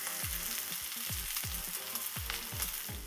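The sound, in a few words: meatloaf sizzling in a frying pan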